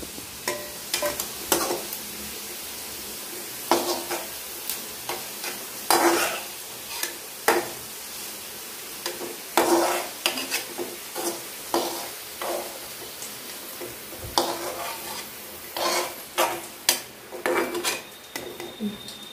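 Pirandai (adamant creeper) sautéing in a pan, heard as repeated metal clinks and scrapes of a spoon against the pan over a faint sizzle, irregular strokes continuing alone for the whole stretch.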